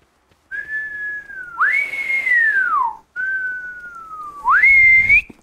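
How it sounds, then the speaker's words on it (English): A person gives an outward whistle in two long sliding phrases, each dipping and then jumping up, clear and close with no talking. "Although he's doing an outward whistle."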